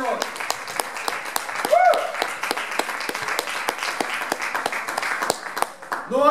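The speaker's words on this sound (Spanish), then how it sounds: "Dale un aplauso fuerte al Señor." A church congregation at a Pentecostal service applauds, giving steady rhythmic clapping that continues for several seconds, while a voice speaks over it.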